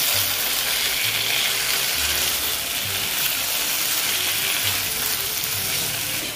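Masala okra (bhindi) sizzles steadily in a pan while being stirred, a continuous frying hiss with occasional soft low scrapes of the spoon at an even level, no talking.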